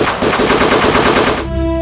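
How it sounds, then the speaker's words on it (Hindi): AK-47 and other automatic weapons firing in an ambush on a vehicle blocked on the road: loud, dense, continuous bursts of rapid gunfire lasting over a second, then giving way to sustained musical tones. "फजा AK-47 और खुदकार हथियारों की गरज से कांप उठती है।"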